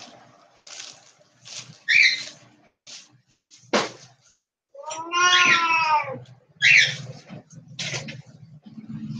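A house cat meows several times close by: short chirpy calls, then one longer, drawn-out wavering meow, separated by brief quiet gaps.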